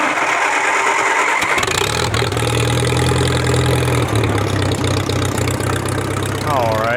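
An older tractor cranks over and fires up without choke, then settles into a loud, close, chugging idle with a steady low throb. A voice is briefly heard over the engine.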